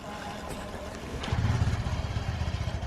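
A motorcycle engine catches after a push or bump start, with low, rough engine rumble building and growing louder partway through, close by and without talk.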